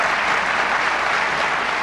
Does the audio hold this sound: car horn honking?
no